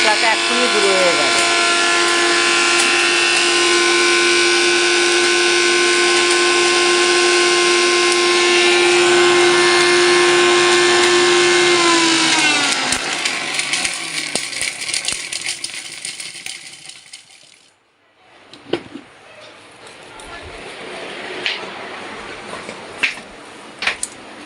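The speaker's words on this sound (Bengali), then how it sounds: "এই যে মিক্সি মেশিন করে দিলাম, মশলাটা এক্ষুনি গুঁড়ো হয়ে যাবে।" An electric mixer grinder grinding spices for mutton curry whirs loudly and steadily for about thirteen seconds, then winds down and stops. Rattling handling sounds follow after a brief quiet.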